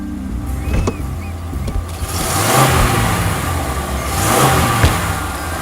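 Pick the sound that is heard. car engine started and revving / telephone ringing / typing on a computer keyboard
car engine started and revving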